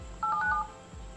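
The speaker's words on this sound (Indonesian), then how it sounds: "Berikut ini cara untuk mematikan suara keyboard di HP Redmi." Keypad tones from typing on the touchscreen keyboard of a Xiaomi Redmi A1 Plus phone, a quick run of several short close beeps in a row, with faint low thumps around them and no voices.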